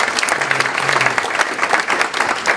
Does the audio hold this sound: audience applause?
yes